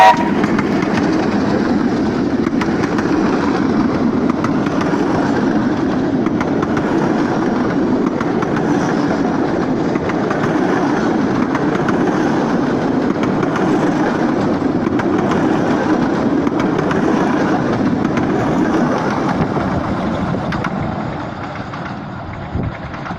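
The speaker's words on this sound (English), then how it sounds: "it's my dad driving a train on this lovely November sunny day" A train rolls along rails on a sunny November day, a loud continuous rumble and rattle holding steady for the whole stretch before easing slightly at the end.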